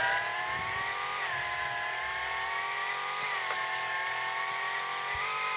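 A car engine revs and accelerates hard at speed, a steady loud drone with rising harmonic tones that shift as gears change, continuous throughout.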